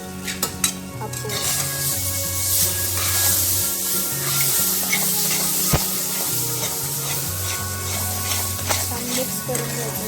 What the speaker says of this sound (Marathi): थोडा वेळ दोन मिनिट छान परतून घ्यायचं